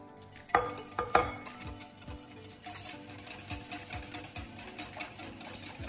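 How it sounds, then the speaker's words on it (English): A spoon scrapes and clinks around a metal pot while custard of egg yolks is stirred for Portuguese custard tarts, with two sharp knocks near the start followed by a steady, rhythmic scraping close by. "Very important, you gotta keep stirring."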